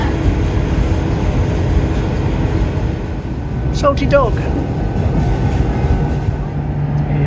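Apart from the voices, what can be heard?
train passing at Dawlish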